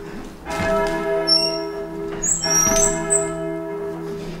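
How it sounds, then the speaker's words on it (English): Church bells, among them a one-ton tenor bell, ring out loudly in overlapping strikes with long sustained hum between them, heard alone with no talk. "There is a little trouble ringing the one-ton tenor up"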